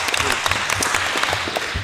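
An audience at a financial inclusion conference panel claps for a speaker, a brief burst of close, dense applause with distinct individual hand claps.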